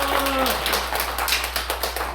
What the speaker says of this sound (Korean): 박수로 격려을 해주시면 감사합니다.